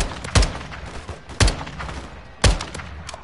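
Three heavy, booming gunshots from enemy fire in the Call of Duty Modern Warfare 2 campaign, spaced about a second apart, each with a sharp crack and a rumbling tail.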